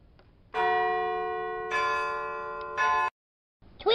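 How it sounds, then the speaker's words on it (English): A front-door doorbell on Halloween rings a sustained, bell-like chime in three ringing strikes that hang and fade. Silence follows, then a voice begins. "I'm going to sneak up there and ring the doorbell"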